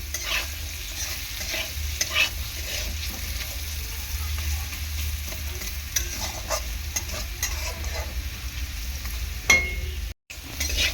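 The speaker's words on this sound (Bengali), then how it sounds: "ভালো করে ডিপ করে কিন্তু আলুটা ভেজে নেবো, বেশি করে ফ্রাই করবো।" Potato pieces deep fry in hot oil, a steady close sizzle broken by scraping, clattering stirring strokes over about eleven seconds, with no talking.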